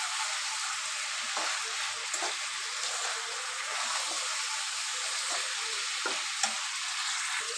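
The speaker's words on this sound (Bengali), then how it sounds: "চিকেন মোটামুটি অনেকক্ষণ কষায় নিয়েছি।" Chicken pieces sauté for a brothy curry with new potatoes, giving a steady close sizzle and hiss with occasional stirring scrapes and clicks throughout, no voices.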